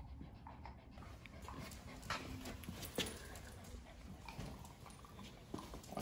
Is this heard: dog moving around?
yes